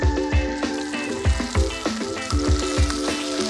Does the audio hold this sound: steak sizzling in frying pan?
yes